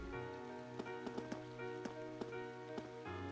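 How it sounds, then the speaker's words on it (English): Steady rain falling outside in the video game Trails of Cold Steel, a soft continuous wash with a few brief clicks on top, heard alone under game music at low level. "I love how it's raining outside."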